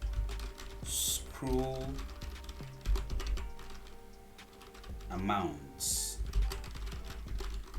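Rapid clicks of typing on a computer keyboard while writing HTML and CSS code, running steadily under a voice giving instructions.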